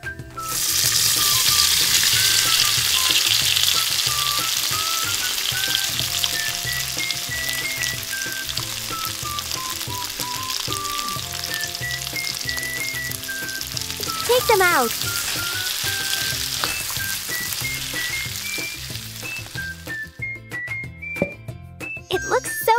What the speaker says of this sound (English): Cooking oil. Let's fry them.